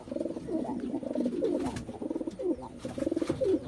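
Several pigeons kept for sale coo nearby in overlapping, rhythmic bursts of low, throaty rolling calls, with soft rustling between them.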